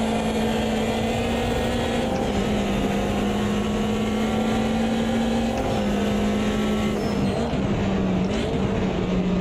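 Group 5 race car in Automobilista 2 accelerating hard, a loud sustained engine drone holding a steady pitch with brief shifts and dips as gears change, dense mechanical roar throughout.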